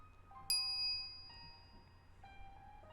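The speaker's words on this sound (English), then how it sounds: "Right as I walk into the lab, I'm greeted by the chiming of a microwave oven." A microwave oven chime in the Steins;Gate visual novel on PC rings out once as a bright, clear ding with a ringing tail that fades over a second or two, followed by softer tonal game sounds.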